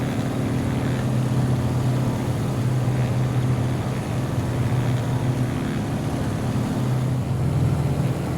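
Carenado Waco biplane in MSFS 2020 on its landing approach. The radial engine holds a steady, loud, low drone with a faintly pulsing hum, continuous and without speech.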